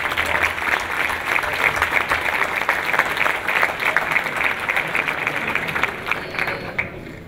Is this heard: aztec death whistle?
no